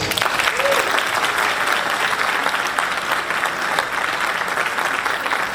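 Dense, sustained applause from a graduation ceremony audience at a university faculty, a loud continuous wash of clapping lasting several seconds with possible faint voices mixed in.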